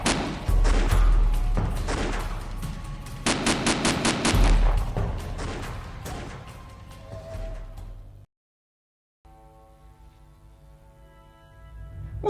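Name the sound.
gunfire shooting at the player in the video game Shadow of the Tomb Raider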